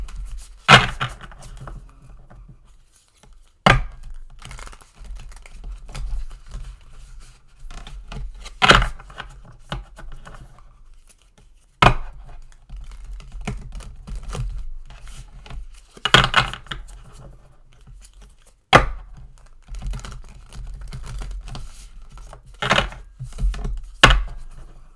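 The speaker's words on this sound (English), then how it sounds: "I'm doing more casino shuffles because I really want to mix the cards up really well." Large tarot cards are casino-shuffled by hand, with sharp riffling snaps recurring every few seconds and softer sliding and tapping of the deck between them, close and clear with no talking.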